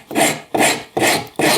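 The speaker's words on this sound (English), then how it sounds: "pulling the rasp toward myself a little bit" A woodworking rasp is pulled across wood toward the user in four loud, evenly spaced rasping strokes, each a coarse scrape with brief gaps between, close by with no other sound.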